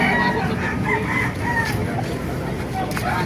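White Kelso gamefowl roosters crowing at a busy Saturday–Sunday chicken market in Baliuag, loud drawn-out crows and clucks from nearby birds over a constant crowd din.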